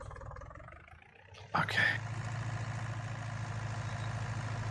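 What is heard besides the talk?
tractor engine in Farming Simulator video game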